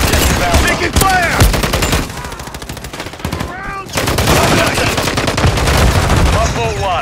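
Rapid automatic gunfire in Call of Duty MW3, loud and close, dense bursts of shots filling the whole stretch with brief lulls and bits of in-game radio chatter.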